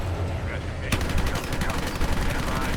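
A tank's machine gun in Battlefield REDSEC fires long rapid bursts, loud and close, a dense unbroken rattle that kicks in partway through over low battle rumble.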